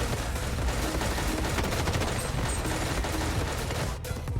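Sustained M4 rifle fire in the shooter game Blood Strike, a dense, loud, continuous burst of rapid shots lasting about four seconds before cutting off abruptly near the end, with no talking.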